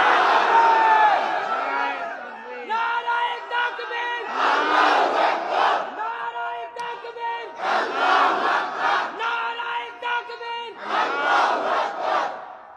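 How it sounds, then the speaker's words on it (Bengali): A large crowd at an Islamic religious gathering chants the takbir, 'Allahu Akbar', in loud, repeated unison bursts with short pauses between each shout, as at a mahfil. "তাকবীর ধ্বনি দিয়ে সর্বশেষ আল্লাহকে দেখায় দাও"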